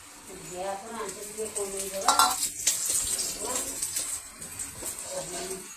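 An egg omelette fries in oil in a pan with steady sizzling and clinks of a utensil scraping and flipping, as someone talks over the cooking.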